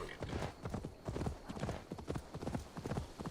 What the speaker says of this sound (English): I'm gonna just grab my horse